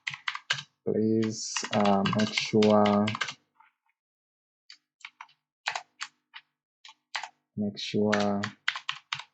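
Typing on a computer keyboard, with bursts of quick clicking in the gaps while a person speaks over much of the clip.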